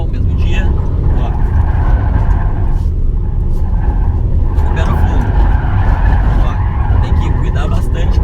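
A car, either a Honda City or a VW Virtus, cornering hard at full throttle, with continuous loud tire squeal and skidding over a steady engine roar that lasts throughout.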